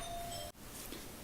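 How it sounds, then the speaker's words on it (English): A household doorbell chimes once, faint and slightly distant, over a steady room hum with no talking. "That was my doorbell."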